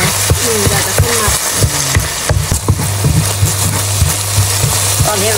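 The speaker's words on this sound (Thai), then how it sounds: "ตอนนี้เราก็ผัดให้มันหอม" Garlic and fermented soybean paste stir-fried in a pan for a pork rad na dish, with loud steady sizzling and repeated scraping of a spatula against the metal.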